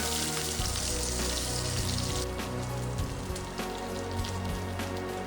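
Hot tempering poured over a dry fish curry with raw plantain gives a dense, crackling sizzle that starts loud and close, then settles into a lighter, steady spitting hiss.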